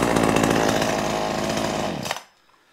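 A Poulan Pro two-stroke chainsaw running close and loud, a buzzing engine drone at steady revs that cuts off abruptly near the end, leaving silence.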